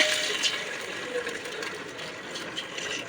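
A steady, hissy stream of water pours into a pot while spinach soup is being made, continuous and fairly close for about three seconds, with no talking.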